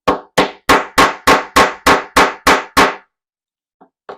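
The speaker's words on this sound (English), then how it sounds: "I'm going to take my hammer and I'm going to hammer this in." Ten sharp, evenly spaced hammer strikes drive a fastener through two layers of folded fabric for a cord keeper, each blow loud and close, then a brief quiet with a faint tap at the end.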